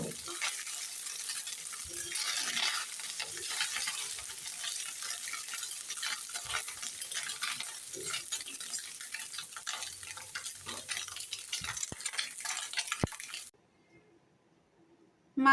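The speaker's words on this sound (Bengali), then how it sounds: "মাছগুলো ভেজে নামিয়ে নিয়েছি" Small freshwater fish fry in oil in a kadai, a steady close hiss with occasional scraping stirs and a few sharp clinks, the sizzle cutting off near the end.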